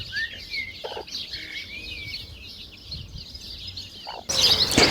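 Hens and chicks peck at wild mustard leaves, with soft clucks and repeated high chick peeps close by, ending in a sudden rustling burst.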